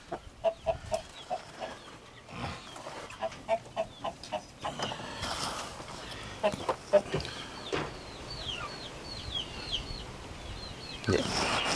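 Chickens and young hens cluck and murmur in a chicken house, with a run of short rhythmic clucks early on, then scattered squawks over a low background hum.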